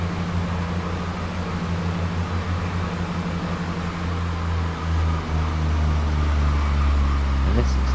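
A six-car Class 166 diesel multiple unit runs steadily in Train Sim World 2, its low engine drone and cab hum sustained throughout with a brief rising tone near the end, alone with no talk.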